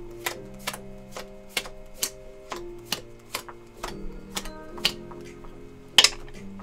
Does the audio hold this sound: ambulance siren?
no